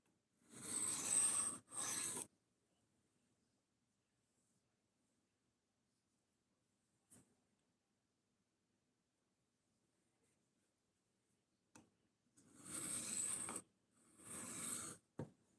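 Knife blade of CPM 4V steel drawn across a sharpening stone, a few crisp scraping strokes in pairs at the start and end, separated by near silence with faint ticks.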